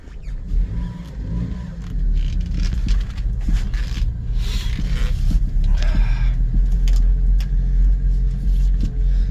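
A 1999 Mitsubishi MiniCab 4x4 mini truck drives along with a steady low engine rumble and road noise, with light scrapes and rattles over it and no talking.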